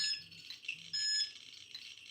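A Geiger counter alarm beeps near a radioactive antique: high electronic tones pulse in short, repeated bursts, fairly faint and alone with no talking.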